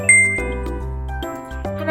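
A bright quiz-style ding-dong chime for a correct answer in a children's church sermon, three clear descending bell tones in quick succession, close and alone.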